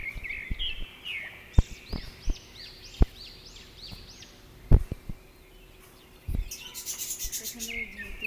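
Pet birds in a home aviary give a run of short, bright chirps and calls, with sharp clicks and knocks scattered among them and a burst of rapid chatter near the end.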